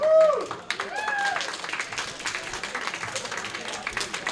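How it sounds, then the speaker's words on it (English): A crowd at an independent pro wrestling show applauds, with a few whistles or shrill cheers at the start, then moderate, scattered clapping continuing at a middling distance under general crowd noise. "Give a round of applause."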